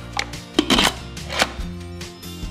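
Handling of an Instant Pot lid being set and sealed, a few sharp clicks and clacks of plastic and metal close up, with a low appliance hum underneath.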